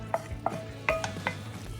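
Garlic is stirred in a skillet for a Vietnamese macaroni pork soup, giving a few sharp scrapes and clinks of a utensil against the pan, close and fairly quiet, with no talk.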